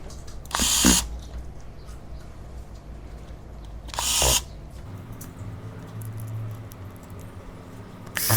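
Small screws being driven into a Redmi 10 smartphone during a broken-screen replacement, heard as two short, close scratchy bursts a few seconds apart over a steady low background hum, with no talking.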